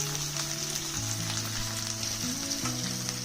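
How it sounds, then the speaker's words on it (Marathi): Chopped onions sauté in a pan for kande pohe until they turn golden, giving a steady, even sizzle that runs unbroken and fairly soft, with a low hum underneath and no voices. "हा कांदा सोनेरी रंग येईपर्यंत छान परतत राहायचा आहे"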